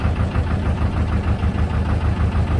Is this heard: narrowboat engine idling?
yes